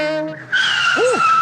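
A car's brakes squeal sharply as its tires skid, a piercing sustained screech with a bending pitch, after a brief honk-like tone at the start.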